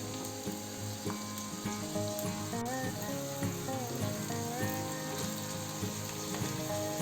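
Around four large, finely chopped onions fry in a pan over a medium flame, giving a steady, even sizzle that runs the whole way through, with soft tonal music faintly underneath.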